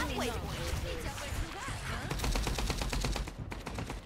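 Rapid gunfire from a first-person 5v5 hero shooter, FragPunk, crackles as dense repeated shots through the clip, loud and close, with speech and game sounds mixed in.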